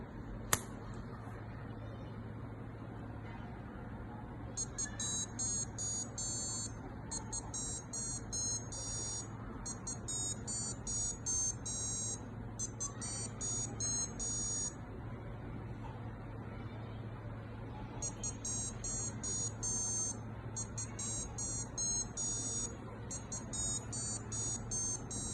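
A small Arduino-driven buzzer beeps out the Happy Birthday melody in bright electronic tones, phrases separated by short gaps, over a low steady background hum.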